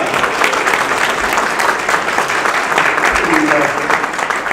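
Steady applause from a crowd at a Pitt County graduation ceremony, dense hand clapping filling the room for several seconds, with a voice talking faintly underneath.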